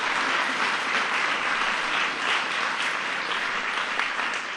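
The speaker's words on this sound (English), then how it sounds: "So give them a big round of applause" A large audience at a White House student film festival gives a big round of applause, a thick, continuous wash of clapping from a sizable crowd, steady and even throughout.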